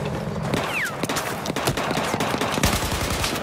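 Battlefield 4 gunfire: a string of sharp shots and short bursts cracking out at irregular intervals over a rumbling battlefield background, fairly loud, with no talking.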